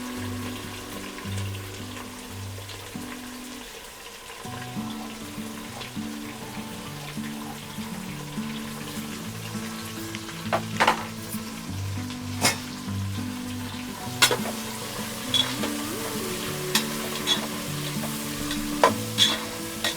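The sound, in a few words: onions sautéing in oil until golden brown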